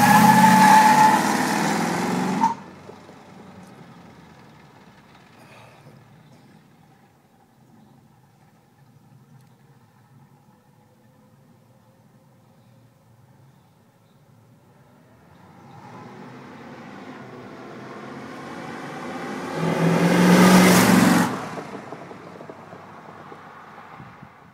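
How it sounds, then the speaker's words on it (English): A 1965 Ford Mustang coupe on a test drive, its engine loud at first, fading to a low steady hum through a long quiet stretch, then rising again to a strong roaring surge before easing off. "So she's a nice runner, and the engine's powerful"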